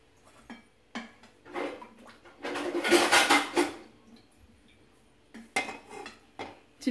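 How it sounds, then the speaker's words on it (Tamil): Small kadai being set on a kitchen stove, metallic clanks and scraping of pans with a louder clattering burst in the middle, close and no talking. "இதை அடுத்து அடுப்பில் எடுத்து வச்சுட்டு இந்த அடுப்பில் சின்ன வடைச்சட்டி வைப்போம்"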